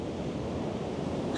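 Ocean waves crash on a rocky shore at night as the tide comes in with a slight swell, a steady broad wash of surf mixed with wind noise, no talking.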